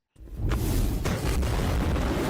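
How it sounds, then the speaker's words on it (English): A deep, sustained anime explosion shockwave hits after near-silence, a loud rumbling roar with a brief whooshing swell that holds steady to the end. "Oh, the delayed shockwave."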